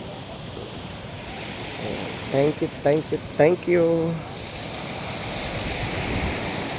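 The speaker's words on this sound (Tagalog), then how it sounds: "Ayan po yung pagaspas po ng tubig." Ocean waves splash onto the beach at Boracay, a steady broadband wash of surf with some wind, while a voice speaks briefly over it midway.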